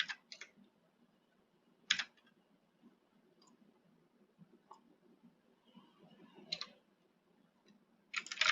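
Bag number typed on a computer keyboard at a blood bank, a few short bursts of clicking keys spaced apart over near silence, close and fairly quiet.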